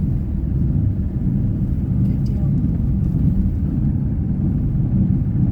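A Subaru car with a suspected failing wheel bearing gives a steady low grinding rub under constant road rumble while driving, continuous and fairly loud throughout.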